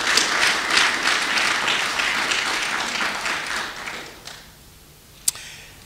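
A church congregation breaks into warm, rhythmic applause that fades out after a few seconds, ending with a single sharp knock in the near silence.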